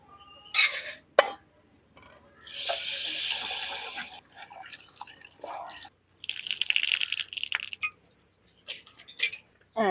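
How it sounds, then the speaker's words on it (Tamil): Water sloshes and trickles in a bowl in uneven bursts as a cup of moong dal is washed, with dripping and swirling between louder splashes, close by and without talk. "ஒரு கப்பு பாசி பயிறு தண்ணியில் கொட்டி நல்லா கழிஞ்சி எடுத்துக்கலாம்."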